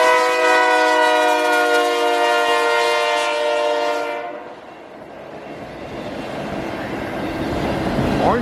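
A CN freight train 280 led by a BNSF locomotive sounds a loud, sustained horn chord for about four seconds, then rolls by at Battle Creek, Michigan with a rushing rumble and rail clatter.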